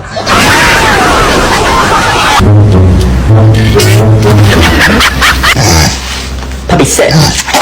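A puppy barks and yips amid loud, chaotic noise from a funny pet clip, with voices in the background and a deep booming rumble partway through.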